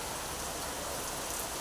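Heavy rain pours down steadily and close, a dense continuous hiss of drops hitting surfaces with no voices.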